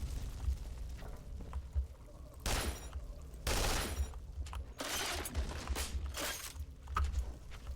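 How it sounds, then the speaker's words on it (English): Bursts of gunfire shooting fire extinguishers in the video game Duke Nukem Forever, several loud broadband blasts in quick succession over a low rumbling game background, with no talking. "Oh yeah, I'm supposed to shoot fire extinguishers."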